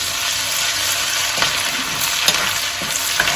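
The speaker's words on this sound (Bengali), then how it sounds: "জাস্ট একটু সময় নাড়িয়ে নিয়ে এবার আমি আদা কুচিটাও দিয়ে দিচ্ছি" Steady, close sizzling of chopped ginger and garlic frying in a hot pan, with occasional soft scrapes and stirring clicks; no voices.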